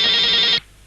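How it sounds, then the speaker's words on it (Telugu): A telephone bell rings in one short, loud, bright burst, then cuts off abruptly into quiet. "ఫోన్ రింగ్ అవుతుంది"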